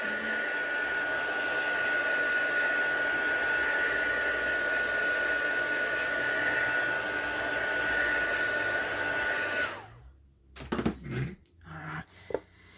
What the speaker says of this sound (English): So I'm just going to give it a nice dry again with the heat tool.